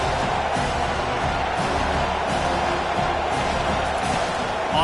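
A continuous, steady roar from a stadium crowd in a college football video game, Indiana at Miami, holds at a constant level throughout and is faintly textured with cheering.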